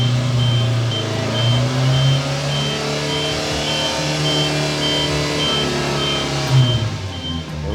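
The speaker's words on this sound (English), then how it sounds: "Let's try to reverse out of the garage." A Subaru Sambar kei truck idles and creeps in reverse out of a garage, its small engine humming steadily with a low drone and slight rises in revs, close and continuous with no talk.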